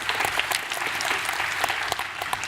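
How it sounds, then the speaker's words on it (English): Audience at an elementary spelling bee claps in a steady, moderately loud round of applause, many hands patting together evenly throughout. "Let's give him a round of applause."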